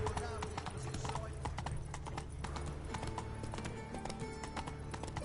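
A black horse in harness and yoke in The Witcher 3, its hooves clip-clopping in a steady, fairly quick rhythm over a dense game soundscape, with a voice talking over it.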